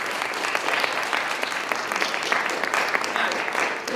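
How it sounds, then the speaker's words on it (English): Audience applause for presenters at an afternoon talk, dense continuous clapping with some voices mixed in. "I give you, and you can give a warm applause to our presenters, Professors Bals-Elsholz and Eberhardt."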